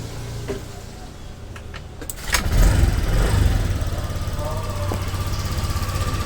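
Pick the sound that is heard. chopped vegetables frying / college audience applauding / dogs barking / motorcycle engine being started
motorcycle engine being started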